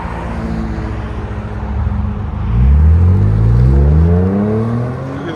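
A 2016 Lincoln MKZ with a 3.7L V6, X-pipe and Magnaflow exhaust revs from a steady low rumble into a loud, rising drone that holds and eases off slightly, heard close with no talking.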